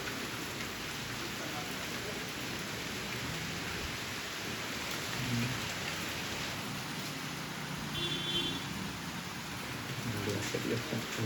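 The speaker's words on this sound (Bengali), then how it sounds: "এইখানে দেখা যাচ্ছে বৃষ্টি করছে" Rain falls steadily and fairly faintly outdoors as the wind picks up, making an even, continuous patter with no voices over it.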